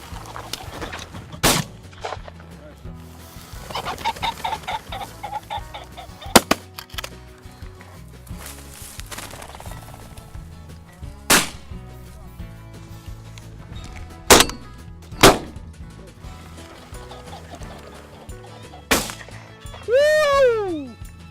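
Sharp gunshots ring out during a bird hunt, several isolated loud cracks spaced across the stretch amid outdoor ambience, with a bird call near the end.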